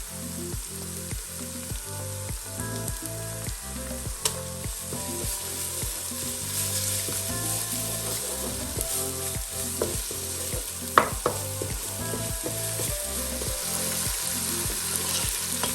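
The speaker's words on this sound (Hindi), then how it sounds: "अब इसमें ऐड करेंगे 2 टेबलस्पून लहसुन अदरक का पेस्ट।" Garlic-ginger paste fries with softened onions in a pan while cooking couscous, giving a steady close sizzle broken by regular scraping stirs across the whole stretch.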